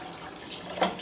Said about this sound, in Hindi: अब आप इसमें ऐड करेंगे जो कि पानी है